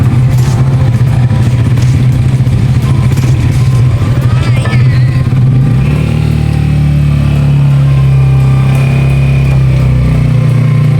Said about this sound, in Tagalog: sasakay din na si Nanay sa motor